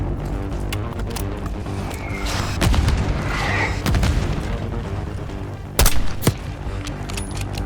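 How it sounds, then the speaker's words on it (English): Mortar fire in a Call of Duty Black Ops 6 battle: heavy rumbling booms and scattered gunfire roll on steadily, with one sharp, loud blast near the end standing out above the din. "Got mortar fire!"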